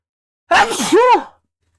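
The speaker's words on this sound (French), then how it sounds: "J'éternue." One sharp sneeze from a nearby person, a quick inhaled catch followed by a loud explosive burst lasting under a second, then silence.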